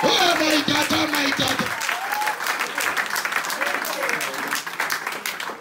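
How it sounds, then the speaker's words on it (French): Church congregation clapping during a French-language sermon: loud, sustained applause with a preacher's voice and cries of praise over the top early on, the clapping continuing thick and close. "Applaudissez Jésus, alléluia."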